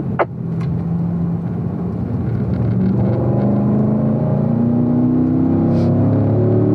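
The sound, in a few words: Corvette race car accelerating on track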